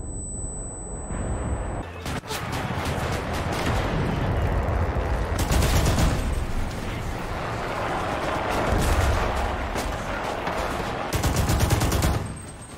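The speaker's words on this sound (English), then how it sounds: "I threw a grenade in here!" Explosions and rapid gunfire from the video game Enlisted, including a grenade blast, crackle and boom in dense bursts throughout, with bursts of automatic fire and a loud explosive hit near the start after a brief tone.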